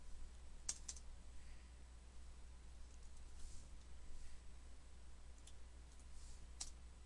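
Numbers being typed on a computer keyboard: a few faint, scattered key clicks over a low steady hum, with no one talking.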